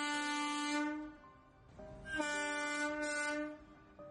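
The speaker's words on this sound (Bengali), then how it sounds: "একখানা ইঞ્জিন হুড়মুড় করে একেবারে তার দেহের উপর এসে পড়ল" A railway engine on the tracks sounds its horn in long, loud blasts, first one sustained tone and then another after a short dip, with rumbling rail noise underneath and no voices.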